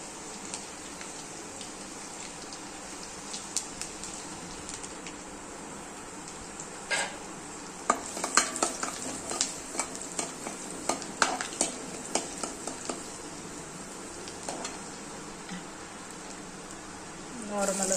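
Garlic sautéing in a pan with cumin, a steady low sizzle with scattered stirring clatters and scrapes that grow busier midway, heard up close.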